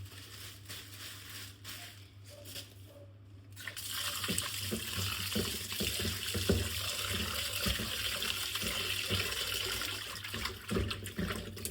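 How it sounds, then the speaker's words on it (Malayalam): Tap water runs steadily into a sink while beef pieces are washed and handled by hand for a Kerala-style beef roast, growing louder after a quieter opening with splashing and sloshing throughout, no talking. "നമുക്ക് ബീഫ് കഴുകിയെടുക്കാം."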